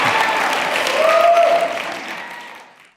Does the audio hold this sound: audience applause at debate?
yes